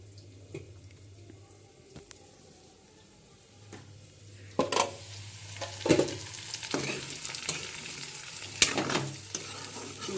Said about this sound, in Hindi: थोड़ा से और तलना है